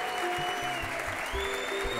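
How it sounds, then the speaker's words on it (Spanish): Audience applause at a children's Venezuelan llanera music contest final, steady dense clapping filling the whole moment with sustained musical tones from instruments beneath it. "Con esos mismos aplausos"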